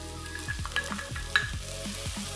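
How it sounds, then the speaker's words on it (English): Shallots and green scallions pan fry in hot oil, a loud, continuous close sizzle broken by scraping stirring strokes, with no talking. "And I want to hear this loud sizzling sound, so I just turn up the heat a little bit."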